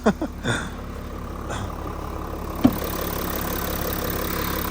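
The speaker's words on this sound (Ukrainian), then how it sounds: "Ось наш мотор V6 TDA, який завжди працює чудово, рівно, гарно, тихо" An Audi Q5 3.0 TDI V6 diesel engine idles smoothly and steadily at close range, a low even hum after a few brief knocks and clicks at the start.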